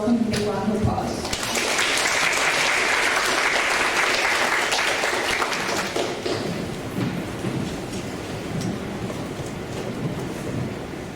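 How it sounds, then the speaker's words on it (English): An audience at a talk on Finnish foreign and security policy breaks into sustained applause welcoming a speaker, a dense wash of clapping that swells after a brief opening and slowly tapers off. "Everyone, please give a warm welcome and big round of applause."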